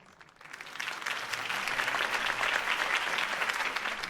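Crowd applause breaks out after a politician's campaign speech in the Batman Telltale video game, a dense, steady clapping from a large audience that swells within the first half second and holds loud and continuous throughout.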